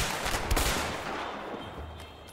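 Gunfire in the co-op prison-escape video game A Way Out, a burst of shots with a sharp crack near the middle over a dense, noisy game mix, moderately loud with no clear talk.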